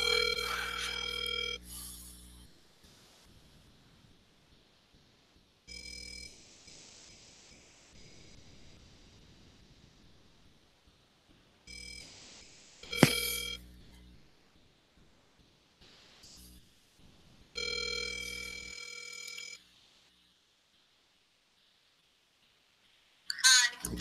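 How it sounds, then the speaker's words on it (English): An outgoing phone call on a handset rings repeatedly, with bursts of ringback tone spaced by silent gaps, until the line drops to voicemail, heard alone without talk. "Okay, let's call Dorilla, see if she has the keys."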